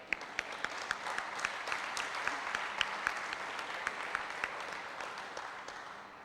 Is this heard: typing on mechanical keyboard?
no